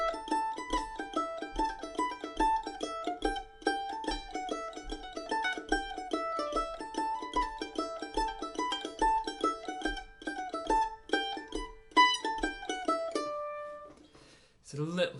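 Advanced mandolin arrangement of the Irish tune The Star of Munster, B part, played alone with brisk picked notes and back-to-back triplet runs, bright and steady before a short trailing ring at the end.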